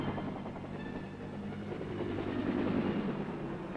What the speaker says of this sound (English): The Huey takes off like an angry hornet.